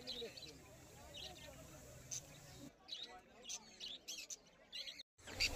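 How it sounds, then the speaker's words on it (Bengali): Lovebirds and budgies at a bird market in Uluberia give faint, scattered high chirps and tweets, sparse and intermittent under low background noise. "এখানে আপনারা বিভিন্ন ধরনের লাভ বার্ডগুলো পেয়ে যাবেন"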